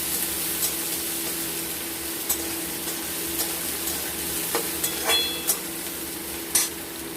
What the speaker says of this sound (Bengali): পেঁয়াজটাকে আমরা একটু লাল লাল করে ভেজে নেব